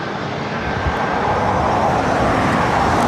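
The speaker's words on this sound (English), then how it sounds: "Look at this Southwest Airlines flight" A Southwest Airlines 737 MAX 8 jet at LAX gives a steady, broadband engine roar that holds at an even level throughout, with no talk over it.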